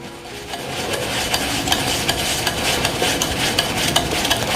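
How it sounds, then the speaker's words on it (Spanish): Butter and sugar are creamed by hand for a sponge cake, a utensil scraping and beating against a bowl in a steady, close, gritty rhythm with no talking. "Vamos a venir y vamos a agregar el azúcar. Lo vamos a hacer como una forma de cremado."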